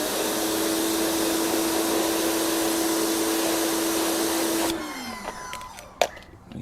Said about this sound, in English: So I'm going to rinse this brush off.